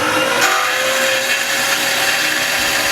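A power tool cuts through a metal bar for a muffler hanger on a V8 dump truck, making a loud, continuous high-pitched whine that holds steady throughout.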